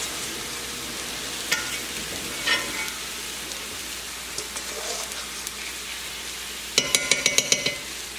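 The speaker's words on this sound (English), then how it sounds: "So now we're gonna let those cook for probably about 5 minutes or so" Pork chops fry in a pan with a soft continuous sizzle, punctuated by occasional utensil taps and a quick run of metallic clinks near the end.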